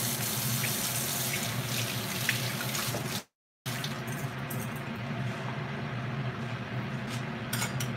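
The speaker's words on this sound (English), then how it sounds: "we just gonna drain this water off of it" Water poured off a pot of boiled cabbage into a kitchen sink, a steady splashing gush that stops briefly and then resumes, close and with no talking.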